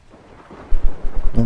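Thunderstorm in the video game ARK: low rumbling bursts of thunder swell and roll for about a second, loud and close, with a brief tonal hum near the end.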